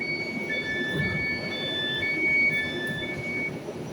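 Glasgow Subway train 310, a new unit, approaching the platform with a steady low rumble and faint high wheel squeals, fairly quiet and continuous without talk.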